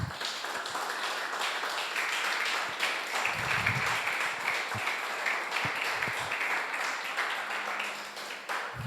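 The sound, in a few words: congregation applause in church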